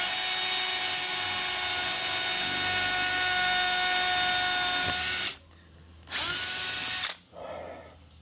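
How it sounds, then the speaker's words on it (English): A cordless power drill runs steadily at high speed while boring into a box trailer for light mounting, a loud continuous whine that cuts off around five seconds, then returns in two shorter bursts. "So then I would bring up my drill."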